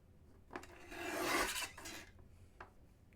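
Dry scraping rasp of a blade trimming off craft paper on a Santa box project, a single close stroke that swells and fades within a few seconds.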